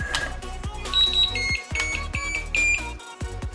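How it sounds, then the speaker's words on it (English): A Metroboard electric skateboard sounds a short series of high electronic beeps as its brake level is set, the tones close and clear over a busy, cluttered background. "So you heard 4 beeps"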